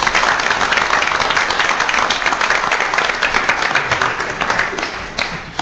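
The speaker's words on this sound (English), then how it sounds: "So why don't we give them all a big round of applause" Audience at a Virginia Commonwealth Transportation Board workshop giving a round of applause, loud continuous clapping from a crowd that tapers off slightly toward the end.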